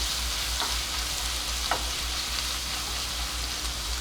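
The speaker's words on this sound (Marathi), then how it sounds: "ही थोडंसं त्याचा कच्चटपणा फक्त जाईल इतपतच परतून घ्यायचं आपल्याला" Ginger, garlic and green chilli paste sautéing in a pan for a Mumbai masala sandwich, a steady close sizzle with a couple of faint scraping stirs, no voices.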